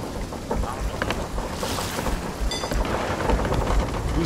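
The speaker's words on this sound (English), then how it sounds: "Let's just sail out of the storm." Heavy rain and rumbling thunder roll through a stormy sea in Sea of Thieves as a sailing ship pushes on, a dense steady roar with occasional louder swells and a faint voice underneath.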